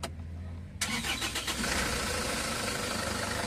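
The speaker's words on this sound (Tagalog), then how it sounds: "pwede ko na ngayon start itong makina" Isuzu Traviz diesel engine cranks briefly after a low hum, then catches and settles into a rough, rattling idle that continues steadily up close.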